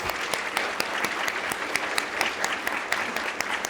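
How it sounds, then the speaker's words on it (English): Brief burst of lively clapping from a crowd, individual claps audible in a quick, uneven rhythm. "Let's give everyone a round of applause."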